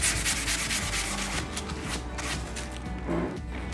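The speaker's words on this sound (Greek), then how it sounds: "ξυλό γυαλόχαρτο και το τρίβουμε" Close, repeated scratchy strokes of wood sandpaper rubbing on a painted small wooden table, a rough back-and-forth rhythm that is louder at first, then steadier.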